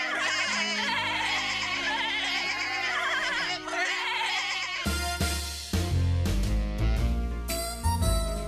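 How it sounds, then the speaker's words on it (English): A sheep bleats in a run of quavering, wavering calls lasting about five seconds, fairly close and loud, before bright music cuts in and takes over. "And that was sheep."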